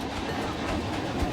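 A train runs along its track in the theme-park game Planet Coaster 2, giving a steady, dense rumble and rattle throughout with a faint clack near the end, heard alone at moderate level.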